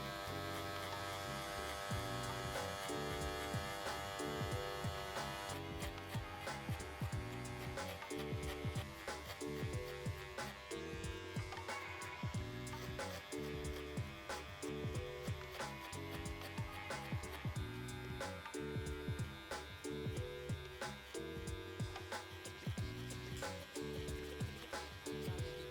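Electric hair clippers fitted with a 1.5 guard, lever fully open, buzz steadily and close up while bulking out hair for a high taper fade, a constant hum running throughout.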